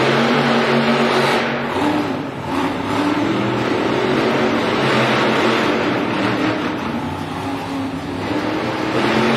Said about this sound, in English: The engines are revved up and ready to go as they approach the start line here.